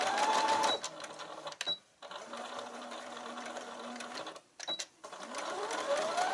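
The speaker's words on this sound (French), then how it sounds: "On va passer une petite couture juste au morceau qu'on a découpé." A sewing machine runs stitch bursts along cut fabric pieces for a Tuareg scarf (chèche). The steady mechanical whir is close and loud and stops briefly twice between runs, with no talking.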